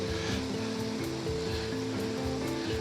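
Water rushes continuously over a waterfall at the Fairy Pools on the Isle of Skye, a steady broadband roar with a low tonal hum running beneath, close and with no voices.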